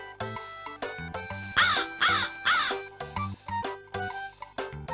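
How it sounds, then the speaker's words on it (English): A crow in The Hoobs PS1 video game gives three loud caws in quick succession, set against bouncy, stepping game music. "Crows are big and black and make a loud cawing sound."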